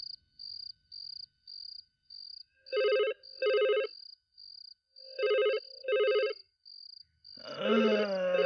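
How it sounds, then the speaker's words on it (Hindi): At night, an old-style telephone rings in repeated double bursts over steady, rhythmic cricket chirping, and a voice starts up right at the end. "इतनी रात को कौन फोन कर रहा है यार?"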